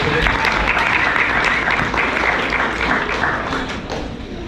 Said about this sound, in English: they're going to do what they call clap happy, more clapping